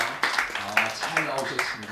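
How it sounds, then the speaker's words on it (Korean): A church congregation claps together in welcome for a newcomer, producing sharp, rhythmic bursts roughly twice a second while voices carry on underneath. "박수 환영하겠습니다"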